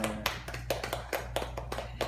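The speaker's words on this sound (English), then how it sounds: "You like the applause, huh?" A young child at a first birthday cake smash claps small hands, giving about a dozen light, uneven pats close by, soft and quick with brief gaps, over a faint steady hum.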